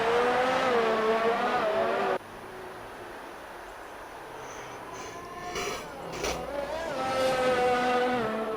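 Race car on a hot lap in the XRL X3 Mexico series, its engine note loud and close with rising and falling pitch, then dropping to a lower steady drone before building again toward the end.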